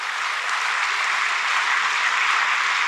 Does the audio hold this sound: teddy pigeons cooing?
no